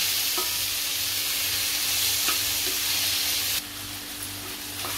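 Chopped tomatoes sauté in hot oil in a pan for matar paneer, giving a steady, close sizzle with a few light scrapes of a spoon and a brief clatter partway through.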